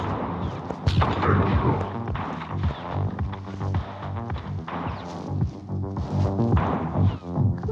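Booming game explosions and gunfire-like blasts, loud and dense with rumbling low end, continuous chaotic battle noise throughout.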